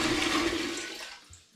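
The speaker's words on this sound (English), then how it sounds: "into my really big pan, I'm going to add another 5 litres of spring water" Five litres of spring water gush out of a bottle, swirled to empty fast, into a big pan for home brewing a gooseberry bitter, loud and rushing before tapering off, with no voices.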